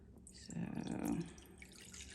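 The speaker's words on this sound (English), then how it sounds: "I have me another bowl here that I'm gonna put my water in." Water poured into a bowl, a short close splashing gush lasting under a second before trailing off into quiet trickling.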